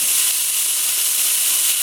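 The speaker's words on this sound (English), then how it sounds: "Oh, look at that sizzle." Food sizzles in a hot pan, a steady broadband hiss that holds level and fairly loud for the whole stretch with no voices over it, while a chicken vegetable soup is being cooked.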